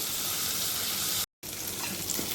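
Chopped onion and tomato sautéing in a pan for a dried bombil (Bombay duck) curry, giving a steady close sizzle and crackle with a brief silent cut partway through.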